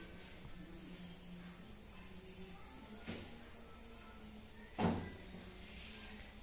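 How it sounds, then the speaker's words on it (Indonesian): Live crickets being raised as bird feed on a cricket farm give a steady, faint high chirping drone that runs without a break, with two brief knocks partway through. "Jadi ini untuk jangkrik-jangkrik yang masih hidup"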